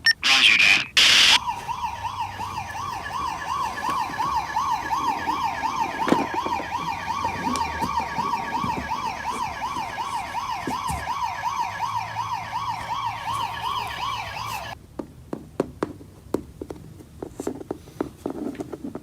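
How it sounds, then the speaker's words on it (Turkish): A loud wailing ambulance siren cycles up and down steadily for most of the clip, then cuts off, leaving scattered knocks and clatter. "Hemen ambulans çağırıyorum."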